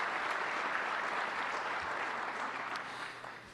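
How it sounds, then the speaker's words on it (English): Audience at an awards ceremony applauding, a steady dense wash of many hands clapping that slowly fades toward the end. "a round of applause for Jerry having gotten."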